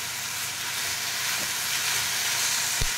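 Garlic fries in a pan over a low flame while cooking drumstick leaves and drumstick flowers, giving a steady, close, continuous sizzle and crackle with no voices.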